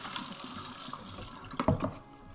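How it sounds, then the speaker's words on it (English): Tap water runs into a Dutch pot holding cleaned oxtail, a steady close-up splashing flow that ends with a few sharper gurgles and spatters. "Put a little water in there"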